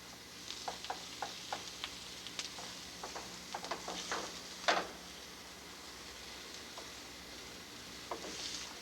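Garlic stirred in a frying gumbo pot, a faint steady sizzle with scattered scraping clicks and taps of the spoon against the pot, one louder clack midway.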